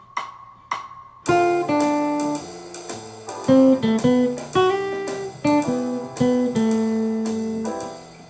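A jazz horn solo over a ii-V-I: two short tones, then a flowing line of melodic runs over a steady accompaniment, bright and prominent.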